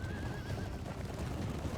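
Barded horses of Dorwinion Paladins in a medieval strategy game give a clear whinny over a dense, steady rumble of many hooves marching together.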